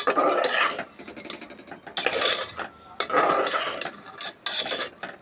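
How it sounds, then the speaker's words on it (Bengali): A spoon stirs turmeric and spices frying in a pan for a chana dal dish, producing repeated loud scraping strokes in a regular rhythm over a soft background sizzle. "তো এটি আমি ভালো মতন মিশাইয়া ভালো করে কষাইয়া লই"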